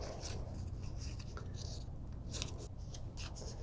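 Paper being folded for an origami butterfly, soft close crinkles and creasing rubs scattered over a few seconds against a low background hum.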